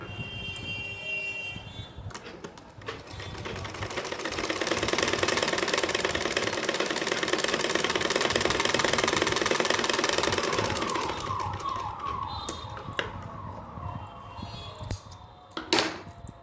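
Sewing machine stitching trim onto a small dress for a Laddu Gopal idol: a steady mechanical whirring drone that swells in the middle and then slows, close by, with a few clicks near the end and no talk.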